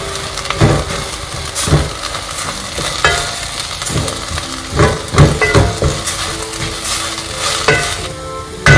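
Turmeric, chili powder and roasted coriander powder for a chicken curry with coconut are sautéed in a pan, giving a steady close sizzle broken by repeated scraping and stirring strokes of a spoon, with no talk.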